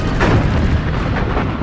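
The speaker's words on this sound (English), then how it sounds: "The thunder of 14-inch and 16-inch rifles and cannons echoes across the sea" Heavy naval gunfire from 14-inch and 16-inch battleship guns, USS Washington against Kirishima in the World of Warships game, a dense rolling thunder of booms over the sea, loud and sustained without speech.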